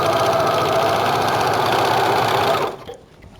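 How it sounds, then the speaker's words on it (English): A serger sewing machine finishes raw fabric edges to stop fraying, running as a loud, steady, close mechanical whir with a fast rhythmic stitching buzz, then cutting off abruptly near the end. "I'm pre-sergering a lot of the stuff now"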